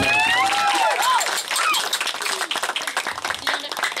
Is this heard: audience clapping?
yes